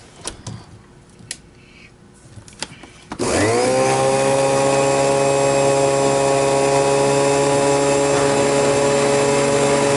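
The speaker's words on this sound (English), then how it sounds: "Now we're going to turn them on low so we can hear the power heads by themselves." A few faint knocks and rustles, then canister vacuum power heads switch on abruptly at the low setting and settle into a steady, loud whirring whine.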